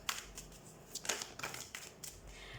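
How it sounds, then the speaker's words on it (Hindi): Tarot cards being shuffled by hand, a quiet run of soft riffling bursts and papery flutters repeating irregularly, close up with no talking. "इन सारे कार्ड्स को मैं ले नहीं रही हूँ बिकॉज अभी तक शफलिंग अच्छे से मैंने की नहीं है"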